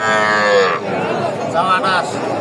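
Cattle moo loudly and close at a busy livestock market, one long drawn-out call followed by shorter lowing, with people talking in the background.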